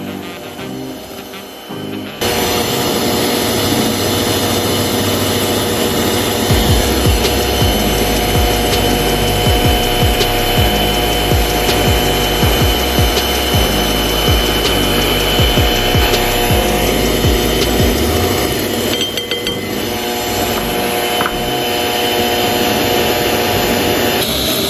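An electric mixer beats egg whites for meringue for crispy almond cookies, a loud, steady mechanical whir that starts after a brief quiet moment and runs continuously to the end.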